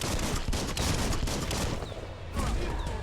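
Dense, rapid gunfire from shooting in the game Biomutant, loud and continuous with a short lull near the middle.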